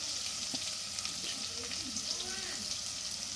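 Ridge gourd pieces and chana dal fry with cumin, mustard seeds, onions and curry leaves in a steady, constant hiss of oil throughout, with faint stirring underneath.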